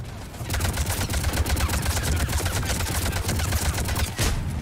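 Dense gunfire in the video game Mass Effect 3 during a fight in the mines. Rapid bursts of shots with low booms keep coming nonstop, loud and busy, with no talking.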